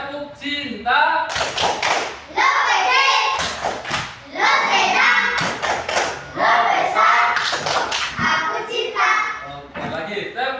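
A classroom of children performs a chanted clapping game, voices rising and falling with bursts of crisp hand claps in a steady patterned rhythm, near and loud.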